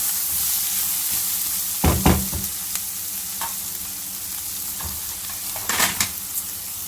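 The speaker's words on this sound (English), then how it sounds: "Fry for a minute and then we'll add our semiya." Coriander powder and semiya vermicelli fry in a pan with a steady close sizzle, while a spoon stirs and scrapes against the metal in a few sharp bursts, with no talking.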